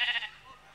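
A short, wavering goat bleat comes at the very start, sounding like a voice imitating the animal on a comedy stage, then trails off into quiet room noise.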